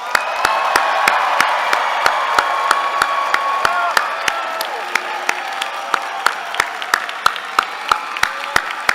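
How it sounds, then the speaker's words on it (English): Loud applause and cheering at a UC Berkeley School of Information commencement for the graduates, crowd whoops and shouts over a wash of clapping, punctuated by sharp, evenly spaced percussive hits throughout. "Everyone, please join me in giving one huge final round of applause to all of today's graduates."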